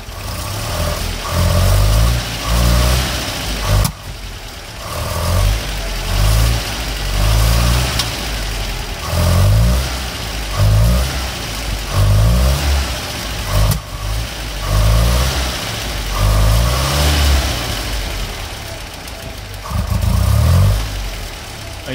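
A Land Rover Series III engine idles roughly and revs repeatedly, loud and close. Irregular misfiring pops and hesitant stumbles break up each rise in speed over a sustained running drone.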